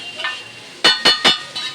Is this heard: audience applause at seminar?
no